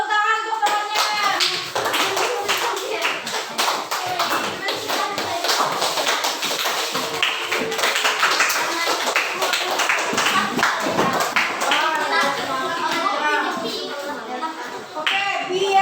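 A school class claps for a classmate during a lesson: steady, close, rhythmic hand clapping that continues throughout, with children's voices mixed in.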